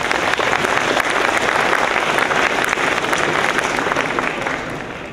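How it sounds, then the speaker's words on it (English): A large audience at a 2022 graduation ceremony gives a sustained round of applause, dense and loud clapping that holds steady for several seconds before starting to fade. "Graduates, give them a round of applause."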